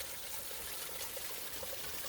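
A small, reliable waterfall along a hiking trail trickles steadily, a constant soft hiss of falling water with no voices.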